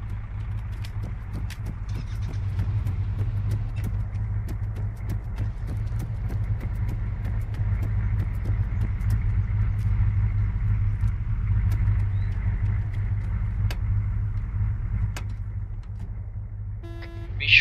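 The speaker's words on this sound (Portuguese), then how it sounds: "Eu vou pegar esse caminhão aqui e vou dirigindo." A military truck driven in the game Arma 3, with engine trouble: its engine gives a steady, heavy low rumble that holds evenly for the whole stretch, close and continuous, with no talking.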